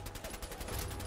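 Rapid gunfire in Fallout 4, a dense rattling burst of automatic shots that fills the whole short moment, loud and close with no clear gaps.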